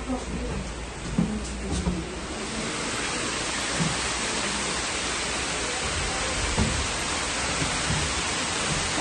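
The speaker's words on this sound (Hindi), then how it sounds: "वाओ, बहुत बारिश हो रही है, बहुत ज्यादा" Heavy rain pours steadily onto a wooden treehouse in a Wayanad jungle forest, a dense, continuous hiss that fills the clip, close and loud, with a few faint knocks and no clear talk.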